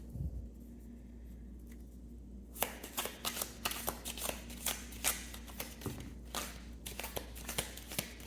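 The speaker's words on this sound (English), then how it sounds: "let's do a second shuffle here" Tarot cards are riffled and shuffled close up, a quiet pause giving way to a run of rapid, crisp flicking bursts.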